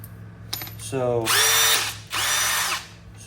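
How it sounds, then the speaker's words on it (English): A power drill fitted with a 1/8 inch bit bores rivet holes in a golf cart glove box, whining up to speed in two sustained bursts of about a second each, close and loud, with a short pause between them. "what we're going to do now is we're going to drill those holes in this right here."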